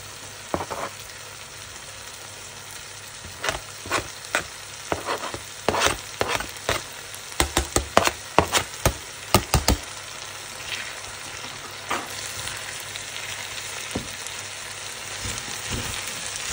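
Mushrooms and green chillies fry in a pan with a steady sizzle, broken by repeated sharp clacks and scrapes of a utensil stirring against the pan through the middle, then settling back to an even crackle.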